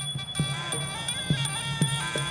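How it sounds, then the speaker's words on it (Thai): Muay Thai ring bell signalling round three at a live fight event, a bright metallic ringing with repeated strikes every half second or so, sustained under crowd murmur at moderate level. "เอาละครับระฆังยก3ดังขึ้นแล้ว"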